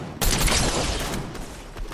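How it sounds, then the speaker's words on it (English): A sudden burst of rapid gunfire erupts in a video game shootout, a loud dense volley that starts abruptly and fades over under two seconds, with no voices. "Getting shot at."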